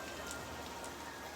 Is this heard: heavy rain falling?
yes